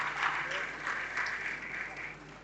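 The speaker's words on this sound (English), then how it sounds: "Big round of applause to that company." Audience applause at a certification and recognition event promoting gender equality, a steady, moderately distant clapping that continues evenly throughout.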